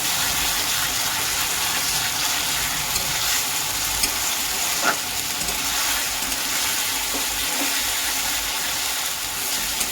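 Onions with ginger-garlic paste sizzle steadily in hot oil as a spoon stirs through them, with a constant close frying hiss and occasional scraping clicks and no one talking.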